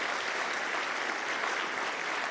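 An audience at a high school spring concert gives a full, dense round of applause, continuous and even from start to finish, filling the hall with no voices standing out.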